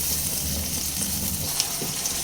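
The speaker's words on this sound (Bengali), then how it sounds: "এবার আমি যে আগেই মশলা বেটে রেখেছিলাম সব একসঙ্গে সব দিয়ে দিয়েছি। মিনিট 2 মিডিয়াম ফ্লেমে কষিয়ে নেব।" Ground spice paste fries on a medium flame for a pointed gourd and prawn curry, giving a steady, close, hissing sizzle with a faint stirring scrape.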